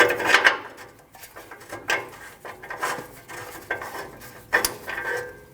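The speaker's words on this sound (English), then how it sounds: "Now you can use your O2 sensor socket tool to remove your O2 sensor." An O2 sensor socket tool works loose the oxygen sensor on a 2012-2021 Nissan NV2500 with the 5.6L V8, giving close metallic ratcheting clicks and clunks in short bursts with gaps between.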